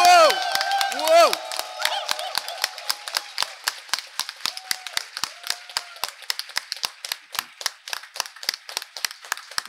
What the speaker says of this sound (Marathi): आपण श्री एकनाथ शिंदे साहेबांचा आपल्या स्टाईलने जोशात जोरात टाळ्या वाजवायच्यात